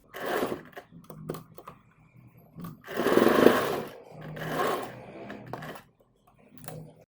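A domestic sewing machine stitching a fabric strip onto a kurti runs in short bursts, with one longer loud run in the middle and a few brief clattering starts and stops around it.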